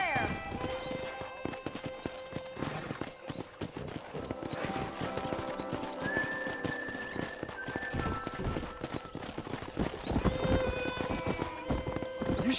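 Wild horses in the Western video game Red Dead Redemption: steady clip-clopping hooves and snorting over a continuous bed of game music and ambience, with whinnies rising out of it now and then.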